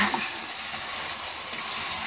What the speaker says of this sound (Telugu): ఒకసారి తిప్పుకొని వాటర్ పోసుకున్నామండి